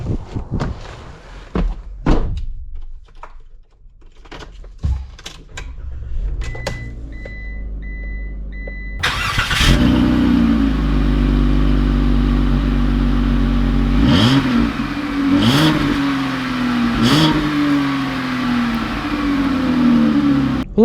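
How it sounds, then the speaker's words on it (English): A 2020 Ram ProMaster 3500 extended cargo van starts off, its engine droning loudly from inside the cab and rising and falling as it shifts and accelerates, with door and cabin clunks early on. "let's take this ProMaster 3500 out,"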